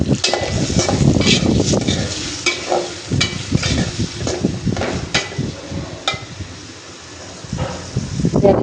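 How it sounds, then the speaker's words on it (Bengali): Prawns sizzle in a hot pan with spice paste and green chillies, a steady crackling fry broken by frequent scraping stirs close by, with a faint voice now and then. "এটাকে ভালো করে ভাজা নিই।"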